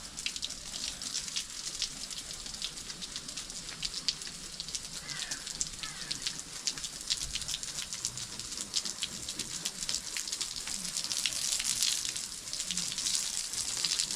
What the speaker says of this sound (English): let's hose this sucker down